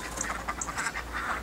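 Ducks kept in a suburban backyard quacking in winter rain, several close, rapid quacks and honks over a steady hiss of falling rain.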